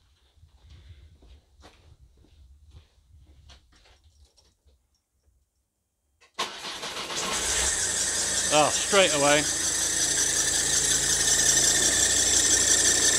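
After a few seconds of faint background sound, a Ford 2.0 TDCi engine in a Focus-type car starts and runs loudly, its worn drive belt and tensioner giving off squealing chirps and rattly whirring close by; someone speaks briefly.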